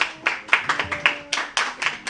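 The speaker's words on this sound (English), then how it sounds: "Give her a applause." Scattered hand claps from a small audience at a chamber of commerce session, a handful of people clapping unevenly in short bursts, close and moderately loud, with no talking.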